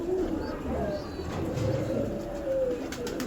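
A domestic pigeon coos softly in a loft, with a few low, rolling coo phrases over faint background murmur.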